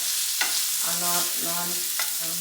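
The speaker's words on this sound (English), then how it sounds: "They're getting nice and sauteed in here. And I'm using a non-stick skillet for this one." Vegetables sauté in a non-stick skillet with a steady, soft sizzle that runs throughout, while a spoon stirs them now and then and a voice talks over the cooking.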